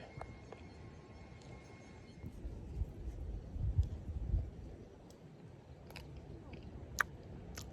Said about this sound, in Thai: กินข้าวแล้วกินกล้วย